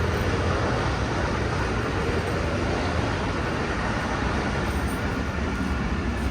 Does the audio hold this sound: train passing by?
yes